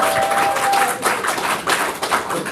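Audience applause at a press conference announcing Lee Gi-in's run for Seongnam mayor: a steady broadband patter of clapping throughout, with a brief tonal voice fading at the start.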